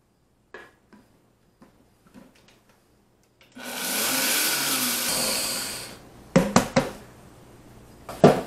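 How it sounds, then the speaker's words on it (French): Electric kitchen blender grinding toasted cumin and coriander seeds, a single burst of high whirring roar lasting about two seconds, with scattered knocks and clatter of handling the jar before and after. "faites-les moudre avec un moulin à café ou, comme moi, dans votre mixeur"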